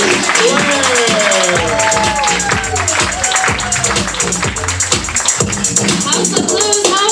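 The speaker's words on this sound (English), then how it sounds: "Start clapping now." A House of Blues comedy-show crowd in Chicago claps and cheers for a comedian being brought on stage, a broad noisy roar sitting under a host talking loudly over it.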